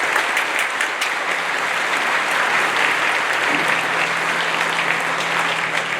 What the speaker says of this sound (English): Let's clap really hard,